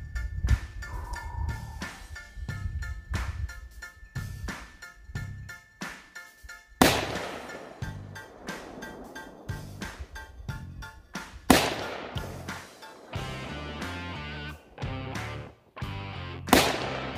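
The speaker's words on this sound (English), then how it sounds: "let's go ahead and throw this to some rounds down range" Rifle shots ring out on an outdoor range while an LPVO scope is sighted in, several sharp, loud reports spaced seconds apart, each with a trailing echo, among fainter clicks and handling noises.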